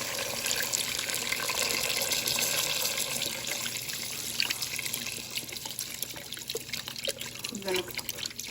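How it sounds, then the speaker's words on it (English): Low sodium beef broth pours into a pan from a container, giving a continuous liquid gush and splashing that is loudest early and then thins into lighter trickling and clinking near the end. "I'm going to put this whole container of beef broth."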